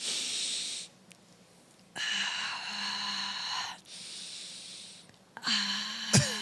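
A voice imitates panicked heavy breathing, with loud, raspy, wheezing gasps in quick repeated bursts separated by short pauses, close to the mic and ending in a strained, voiced gasp.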